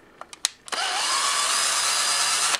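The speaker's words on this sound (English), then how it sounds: "I'm using a cordless drill for this because our base plate is threaded." A cordless drill backs out the screws of a humbucker pickup threaded into its base plate. A few light clicks come first, then a steady, loud, high whine runs close up for the rest of the clip.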